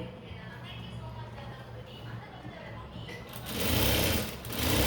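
An electric sewing machine stitches a blouse's hand joint, running as a steady close hum that swells into a louder, faster burst of stitching toward the end.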